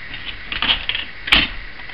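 A Hammond Folding Multiplex single-element typewriter with a type shuttle taps out a few quick keystrokes, sharp close clacks with one louder strike near the end.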